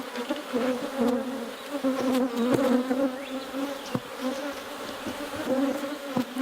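Honeybees buzz steadily in an opened hive during requeening, a dense, continuous close-up drone with shifting wingbeat tones and no voices.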